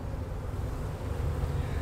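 Honey bees buzz steadily around a pollen frame lifted from a hive, a continuous close, even drone with a faint rough airy edge throughout.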